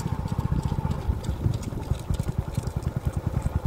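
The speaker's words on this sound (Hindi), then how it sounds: "अभी देख सकते हो घोड़े को फिलहाल 5-6 मंथ के बाद घुमाया जा रहा है" A young Sindhi horse is walked along, its hooves giving a steady, rhythmic clip-clop close by throughout, with a faint low hum in the background.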